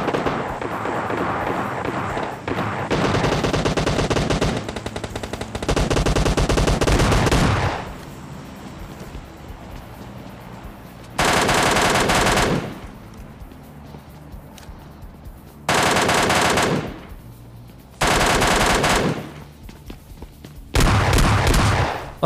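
Gunfire in PUBG Lite during a close-combat fight with an Mk14 and S12K, loud bursts of rapid shots in several separate volleys with short gaps between them.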